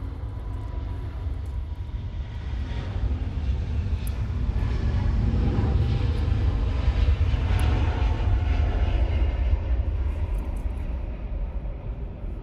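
A Vietnam Airlines jet takes off, its engine roar building into a loud, sustained rumble that peaks midway and holds steady without speech.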